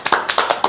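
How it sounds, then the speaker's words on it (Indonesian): A few hands clap in a loose, uneven rhythm of about six sharp claps, close and fairly loud, from a small audience at a comedy performance. "Tepuk tangannya dulu mana?"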